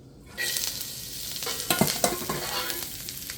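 String beans stir-frying in a pan with beef and olive oil: a sudden loud sizzle as they go in, then continuous frying hiss with scraping stirring strokes, close and without talk.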